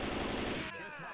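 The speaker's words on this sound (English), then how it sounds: "Jordan, you were almost shot" Rapid gunfire from the zombie shooter Left 4 Dead 2 crackles loud and dense for most of the short burst, then cuts off sharply, leaving a quieter mix of game sounds.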